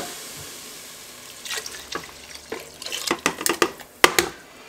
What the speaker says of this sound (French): Alors on peut d'abord mettre les liquides, donc le lait, voilà, le bouillon